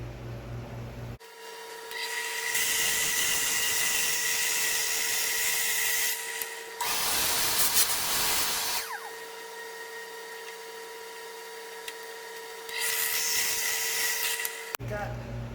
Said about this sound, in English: once we put it on the drill press, get a little cleaner hole